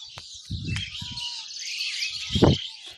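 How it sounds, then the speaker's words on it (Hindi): Birds chirp and tweet in short bright bursts over a steady high twittering chorus, with a few low thumps scattered underneath. "तो दोस्तों ये है चिड़ियों की चहक जो मैंने आपको सुनाया"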